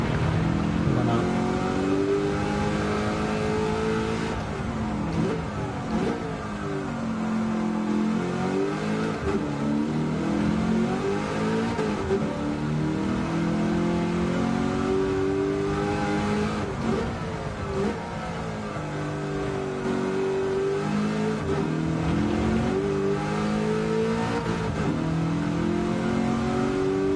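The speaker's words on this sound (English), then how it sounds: "lot of strain on that engine." A race car engine in a racing video game strains and revs continuously, its pitch climbing and dropping through repeated gear shifts, loud and up close with no talk over it.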